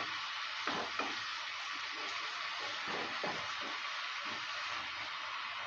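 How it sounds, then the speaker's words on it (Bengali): Potato, pea and paneer curry sizzling steadily in a pan after water is added, a dense continuous hiss with a few soft scrapes of stirring near the start, close and without talk. "জলটা দেওয়ার পর ভালো করে আবারও নেড়ে চেড়ে নিচ্ছি।"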